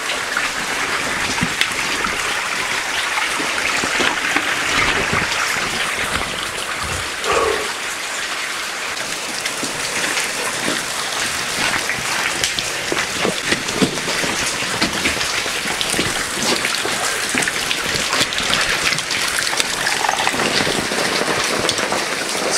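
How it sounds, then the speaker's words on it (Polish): Heavy rain pours down at a mine adit, a dense, continuous hiss of drops striking surfaces with trickling water underneath, loud and unbroken throughout. "deszcz tutaj jest po prostu masakryczny"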